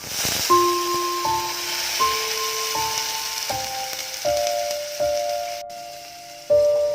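Watery masala paste of ground garlic tipped into hot oil for a Konkani bombil fish curry, giving a steady hiss and sizzle over a stepping background melody, with a sharper burst near the end.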